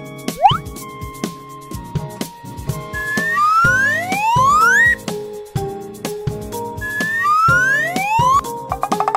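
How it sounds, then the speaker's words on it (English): An ambulance siren from a children's vehicle sequence, rising and falling in repeated wailing sweeps over a steady rhythmic beat, loud and continuous throughout. "Ambulance."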